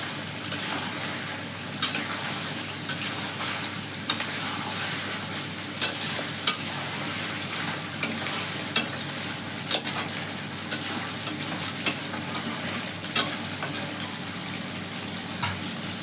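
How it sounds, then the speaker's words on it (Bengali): Chicken being stir-fried in its own released oil in a pan, a soft, steady sizzle broken by regular sharp scrapes and clacks of a spatula, close and fairly quiet, with no talking. "এবার তেল ছেড়ে দিয়েছে মাংস থেকে। তো আমি আর একটু ভালো করে কষিয়ে নেব।"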